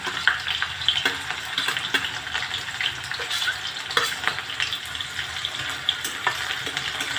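Onion, cumin and green chilli fry in a pan with a continuous close sizzle, punctuated by irregular clicks and scrapes of a spoon stirring, with no voices.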